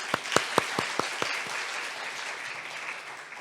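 A church congregation claps to welcome a staff member: a handful of quick, separate claps that die away after about a second, leaving quiet room noise.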